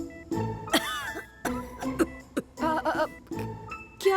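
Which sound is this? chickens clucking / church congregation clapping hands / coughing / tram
coughing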